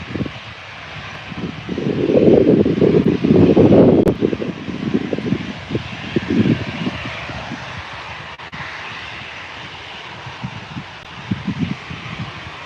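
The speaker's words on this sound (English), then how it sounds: "We've got the EasyJet A321 coming in hot." An EasyJet Airbus A321 coming in to land at Birmingham Airport, its engine roar swelling loud and close before fading into a windy rumble.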